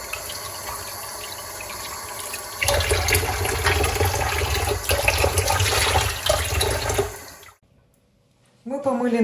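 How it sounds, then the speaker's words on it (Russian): Cold tap water pours steadily into a washed pot holding pork trotters, a continuous rushing stream that grows louder midway, then cuts off abruptly before a brief resumption. "Теперь заливаем холодной водой, чтобы ножки покрывали."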